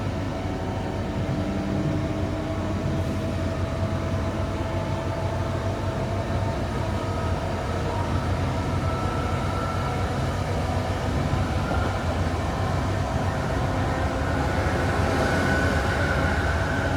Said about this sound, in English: Welcome on board this Northern Train to Manchester Airport.